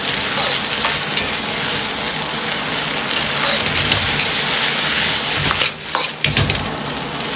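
Mung bean sprouts and shredded green pepper stir-fry in a wok over high home-stove heat, a loud dense sizzle with scraping toss sounds near the end.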